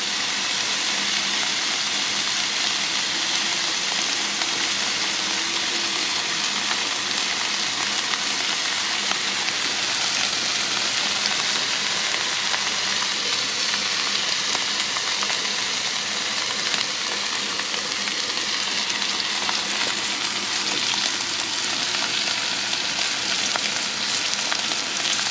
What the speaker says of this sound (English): So let's go ahead and put one steak on there.